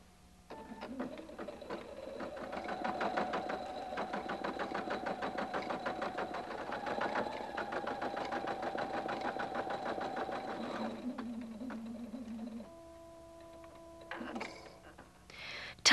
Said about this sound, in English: Sew this part of the design.